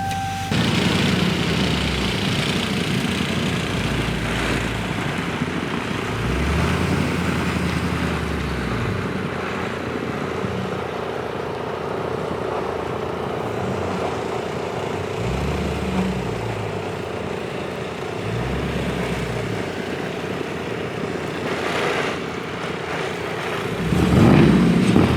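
A 2022 Dodge Charger Scat Pack Widebody drives through a blizzard, its steady engine and road drone filling the cabin at a constant level with low rumbling swells and a louder rise near the end.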